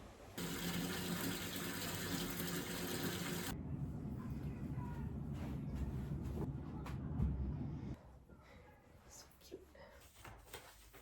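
Water gushes hard from a tap into a bathtub, a loud dense rush for a few seconds that then softens into a lower, splashy filling sound before tapering off, with a voice talking over it.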